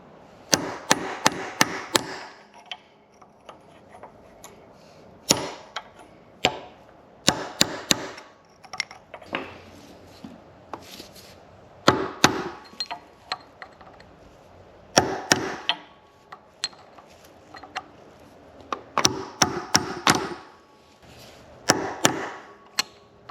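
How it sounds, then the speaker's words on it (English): Steel chisel hammered to bend a locking washer over the sprocket nut on a KLR 650, heard as sharp metallic strikes in quick bursts of three to six blows with short pauses between, close and loud. "I'm going to try to take my chisel and bend this little locking washer over"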